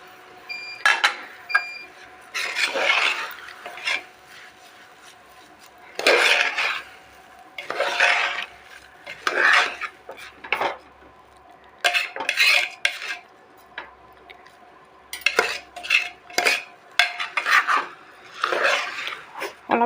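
Ginger garlic paste being stirred in a frying pan, with bursts of scraping and clinking of a spoon against the metal in irregular rhythm, loud and close, separated by quieter gaps of low sizzling.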